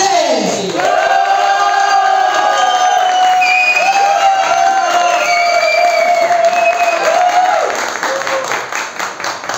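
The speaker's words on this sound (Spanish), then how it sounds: "fuerte el aplauso para la señora Vicky Grace." A bar talent show crowd applauds and cheers loudly and close, with sustained clapping and whooping shouts that carry on for several seconds before starting to thin out.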